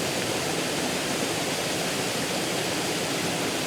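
Steady, dense rushing of water pours down Enders Falls with strong flow, a constant broadband roar heard up close with no talk and no change in level.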